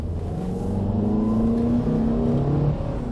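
A Honda car engine pulling in first gear with a delayed-shifting transmission fault, its steady droning note climbing gradually in pitch as revs rise, close and continuous with no talk.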